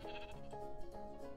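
A single short sheep bleat from the Minecraft video game, faint and wavering, heard alone without talk.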